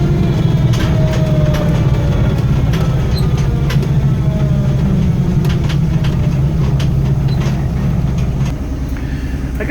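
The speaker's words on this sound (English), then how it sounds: "you can definitely hear the transfer case working" A 1972 Ford Bronco driving in third gear, its transfer case whirring under a loud, steady low engine and road rumble, with faint rattles and clicks scattered throughout.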